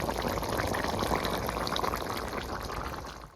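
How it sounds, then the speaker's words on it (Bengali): Bata fish curry simmers uncovered in a pot in a village kitchen, giving a dense, steady bubbling and hissing boil heard up close with no talking, fading out at the end. "এবার ঢাকা দেবো না, এভাবে খানিকক্ষণ ফুটে যাবে"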